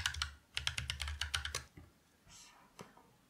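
Quick bursts of typing on a computer keyboard, a rapid run of close, crisp key clicks followed by a pause and a few scattered taps, fairly quiet.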